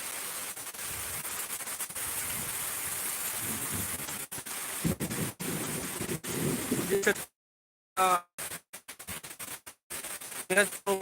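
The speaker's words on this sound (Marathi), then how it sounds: "नुसता पाऊस पाणीच पाणी झालेलं आहे" Heavy rain during a thunderstorm in the eastern Miraj area, a dense, steady roaring hiss for several seconds that then cuts out and returns in broken bursts, with a voice briefly present.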